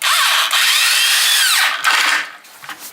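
A Wild Edge 7.5 amp, 1/2 inch drive electric impact wrench drives a lag bolt into wood, a loud continuous high whirring hammering that cuts out briefly, resumes, then winds down.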